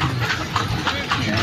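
Hooves of a horse pulling a kalesa carriage clip-clop in a steady rhythm, close by, under continuous chatter from riders.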